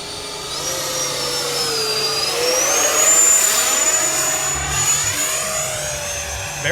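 FMS Rafale 64mm radio-controlled EDF jet flying past outdoors, a loud, steady ducted-fan whine that rises and shifts in pitch as it sweeps by, sustained for several seconds.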